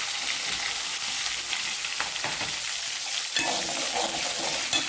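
Small shallots, garlic and ginger sauté in a hot pan with a steady, bright sizzle and occasional scraping stirs, close and continuous, no voices.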